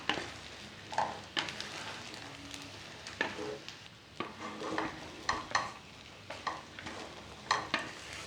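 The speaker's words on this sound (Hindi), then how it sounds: "अब इसे अच्छे से मिक्स कर लेंगे।" A spoon stirs sabudana khichdi in a non-stick pan, with a series of irregular scraping strokes and soft clinks over a faint sizzle, fairly quiet and close with no talk.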